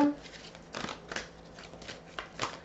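Tarot cards are shuffled and drawn in a run of soft, quick riffles and flicks. The bursts come in an uneven rhythm, close by and fairly quiet.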